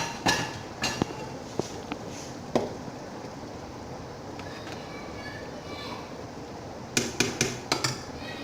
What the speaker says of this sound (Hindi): चमचे से इसको सबको मिक्स कर लेंगे